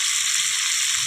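Chicken joints sizzling in a pan over a lowered flame, a bright steady hiss of frying oil that holds constant throughout, close and clear with no talk over it.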